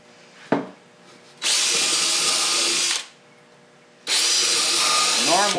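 A power drill driving screws into wood while building an aquarium stand, two sustained loud bursts separated by a pause, with a brief knock before the first.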